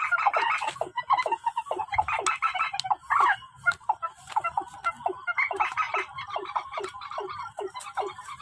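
Purple swamphen calls played as a lure for night bird trapping: loud, repeated harsh squawks and clucking bursts in an irregular rhythm, close and clear with no talking.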